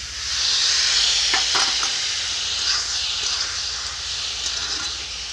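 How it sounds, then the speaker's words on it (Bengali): Peanuts and garam masala stirred in a hot pan with water added, giving a steady loud sizzling hiss with a few scraping stirs, close and alone. "চীনাবাদাম, গরম মশলা, একটু নাড়াচাড়া করে একটু জল দিয়ে দিব"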